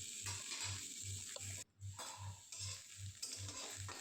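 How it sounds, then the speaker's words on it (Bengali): Fried banana stem stirred and lifted from a frying pan, a steady sizzle with rhythmic scraping strokes about twice a second, broken by a brief pause midway. "এবার থোড়টাকে তুলে নেব।"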